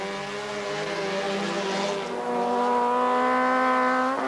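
Race cars, including a Citroën Visa, an Alfa Romeo and a white BMW, compete at the 1986 Chamonix 24 Hours. Several engines howl together in a loud, sustained, overlapping drone that swells and climbs in pitch toward the end.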